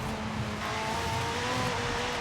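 A Ford car in Forza Horizon 5 drives past with a steady, close engine drone and a faint tire hiss that swells slightly midway, with no talking over it.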